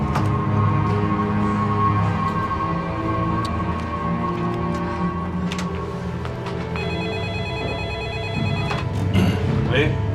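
A telephone rings in an office at a health bureau, a steady electronic ring sounding under continuous speech and background noise.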